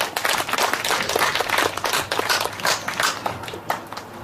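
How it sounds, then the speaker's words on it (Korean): An audience at a community reading event in Anseong applauds, a lively, uneven clatter of many hands clapping close by for several seconds, with no talking over it. "큰 박수를 부탁드립니다"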